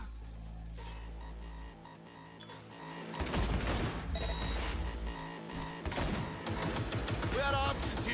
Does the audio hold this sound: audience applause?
no